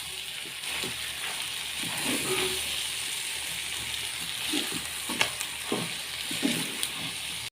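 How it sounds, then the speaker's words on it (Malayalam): Chicken masala with curry leaves frying in a pan gives a continuous close sizzle, with spoon scrapes and stirring knocks recurring throughout; no one speaks. "കറിവേപ്പിലയും കൂടി ചേർത്ത് കൊടുത്തിട്ട് നമുക്ക് നന്നായി ഒന്ന് ഇളക്കി കൊടുക്കാം"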